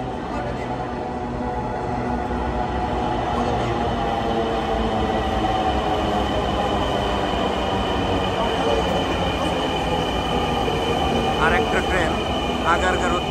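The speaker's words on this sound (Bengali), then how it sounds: "আমরা দেখতে পাচ্ছি একটা ট্রেন আগারগাঁ থেকে উত্তরা পৌঁছালো।" A Dhaka metro rail train pulls into Uttara station from Agargaon with a loud, steady rolling rumble and a few brief wheel squeals near the end.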